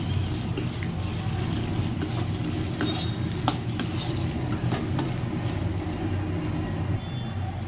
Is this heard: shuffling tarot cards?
no